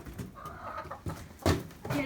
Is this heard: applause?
no